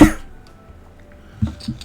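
One sharp, close cough bursts out at the start, followed by quiet and a couple of softer throat sounds near the end.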